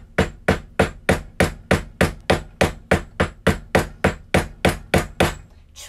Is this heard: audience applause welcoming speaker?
no